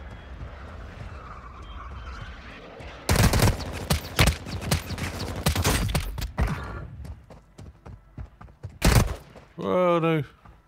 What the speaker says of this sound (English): I can't shoot that far with this gun.